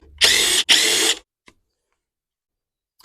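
A power drill runs in two short, loud whirring bursts with a brief gap between them while backing out 5/16 bolts from a Briggs and Stratton airbox, followed by faint clicks.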